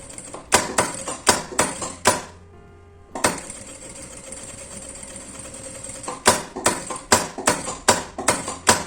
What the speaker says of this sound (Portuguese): Agora, eu faço uma costura por esse lado em toda a volta.